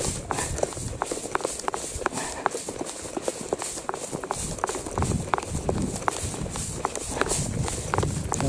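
Cows run home along a rural track, their hooves striking the ground in a quick, irregular patter of sharp thuds over several seconds, fairly close.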